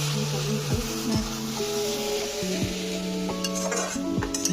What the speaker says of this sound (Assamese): নাৰিকল ভাজি আছে